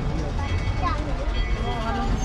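A Walt Disney World Railroad train at Magic Kingdom pulls out of a station, a low steady rumble heard from on board under a brief spoken line.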